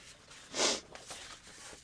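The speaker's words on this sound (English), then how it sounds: "And sorry I'm sniffling." One short, breathy nasal sniffle from a person with allergies, close and fairly quiet, followed by faint soft breathing.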